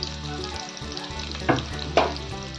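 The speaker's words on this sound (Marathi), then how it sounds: "यात टाकूया आपण कांदा व लसूण याला छान लाल होईस्तोवर आपण परतून घेऊया" Onion and garlic fry in a pan for a village-style gram-leaf vegetable dish, giving a continuous moderate sizzle broken by two sharper stirring clanks.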